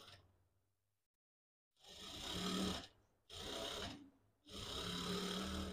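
A sewing machine runs a second line of stitching over an existing seam on a cotton kurti, three steady whirring bursts separated by short pauses after a quiet start, close and without talk.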